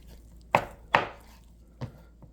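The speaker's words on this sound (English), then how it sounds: "I'm going to go ahead and cut the rest of that meat up" A knife chops through beef strips on a cutting board, cutting them into chunks for stew: two firm, close thuds followed by two lighter taps, with no talking.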